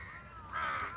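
A crow gives a single short caw partway through, fairly faint and at a distance, over quiet outdoor background noise.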